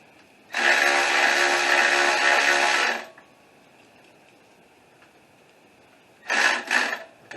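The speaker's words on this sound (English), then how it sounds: "So all I'm doing now is just tightening the belt." Belt being tightened on the power steering pump of a 2001 Jeep Cherokee with a power tool: a loud, steady mechanical whir running for about two and a half seconds, a pause, then a shorter burst.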